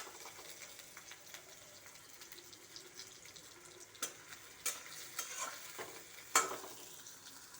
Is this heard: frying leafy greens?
yes